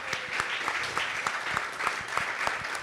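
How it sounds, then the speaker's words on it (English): Audience applause for a panel at a digital creators' retreat, a steady dense clapping from a crowd that fills the whole moment with small sharp peaks throughout. "can we get a round of applause for our panelists?"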